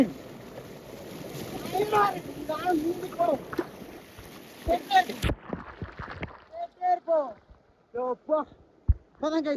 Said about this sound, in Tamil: இங்க வந்து இந்த தண்ணி விழுற சத்தம் கேக்குதா உங்களுக்கு?